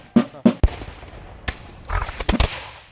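A musket volley at a Fort Ticonderoga battle reenactment: scattered sharp, loud gunshot cracks, first a few separate reports and then a ragged cluster, with faint commands and crowd noise in between.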